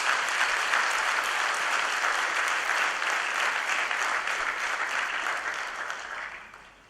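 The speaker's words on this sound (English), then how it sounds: "you deserve a loud applause" Loud, sustained applause from a large audience greets graduates at the SLIIT convocation, a dense wash of clapping that holds steady and then fades near the end.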